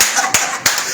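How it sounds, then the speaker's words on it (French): An audience claps at a live event in support of a singer, with loud, close hand claps landing in a steady rhythmic pulse. "Non, on va applaudir."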